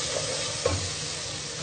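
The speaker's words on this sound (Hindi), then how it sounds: "अब मसाले को अच्छी तरीके से हम भूनेंगे।" Spice masala of turmeric, coriander and black pepper powders frying in a pan for a mixed vegetable dish, a steady close sizzle with a single brief scrape of stirring partway through.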